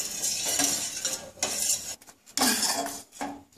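Milk for firni stirred in a pot, a utensil scraping and clinking against the metal in uneven strokes with brief pauses, close and fairly loud.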